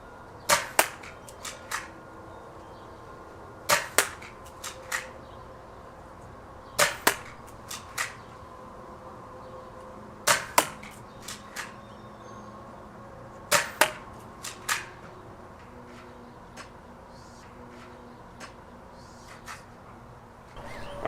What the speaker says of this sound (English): We're at 30 feet with the Outlaw,